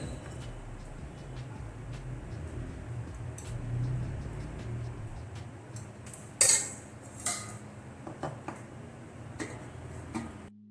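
Kheer is ladled into a serving bowl, giving a few sharp clinks of metal spoon on dish over a steady low background hum, with no talking.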